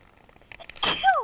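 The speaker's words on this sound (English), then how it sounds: "I need to sneeze, sorry." A single sneeze bursts out after a few quiet breaths, loud and close, with a short squeaky tail at the end. It comes during a quilting and cross-stitch session.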